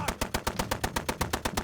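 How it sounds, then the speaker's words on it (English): A quick, steady burst of machine-gun fire, roughly a dozen sharp evenly spaced shots in under two seconds, loud and close with no voices. "they opened fire on him with machine guns"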